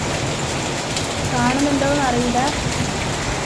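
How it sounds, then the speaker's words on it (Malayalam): Heavy rain pours down steadily as a dense, close hiss during a thunderstorm at a home, with a person talking over it. "നല്ല മഴയുണ്ട്"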